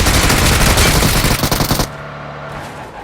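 Rapid automatic gunfire bursts loudly in a Free Fire-style battle-royale shooter game, a continuous rattling stream that cuts off abruptly, leaving a quiet hum behind.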